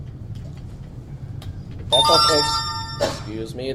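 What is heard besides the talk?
mobile phone ringing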